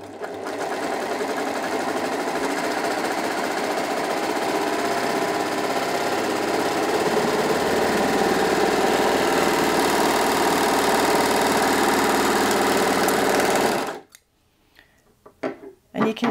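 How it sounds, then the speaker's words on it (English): A Brother 2104D overlocker sews a three-thread rolled hem, with thicker thread in the upper looper, as a loud, steady whirring run that lasts about fourteen seconds and stops abruptly, followed by faint handling noises. "So I'm going to go ahead now and sew the three thread rolled hem"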